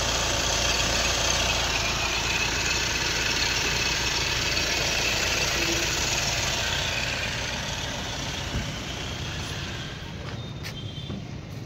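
A 2013 Hyundai i20 Sportz 1.4 diesel idles close by with its bonnet open, giving a dense, steady rumble with a faint knocking clatter that holds even and loud throughout.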